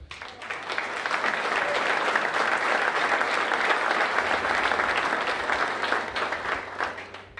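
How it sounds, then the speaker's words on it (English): A steady round of audience applause at a college athletic hall of fame ceremony, sustained even clapping from a large seated crowd in a hall, moderately loud and unbroken for the whole stretch. "we will give each of them a round of applause individually for all they do."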